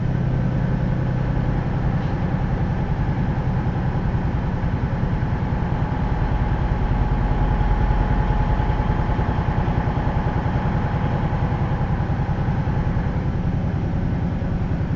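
A truck engine idles steadily with its Jake brake switched off, a continuous low rumble with a faint whine holding at an even level throughout, with no voices over it.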